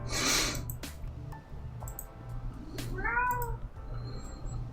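A cat meows once, close and fairly clear, over a low steady background hum, with soft clicks and faint noises around it and no voices.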